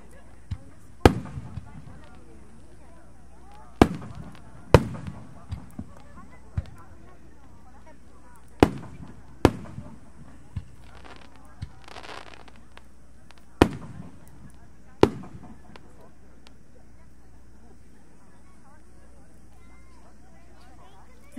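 Distant fireworks at a festival fireworks display burst in sharp, scattered bangs, a dozen or so spaced irregularly over a low ambient hum, with a voice speaking at times.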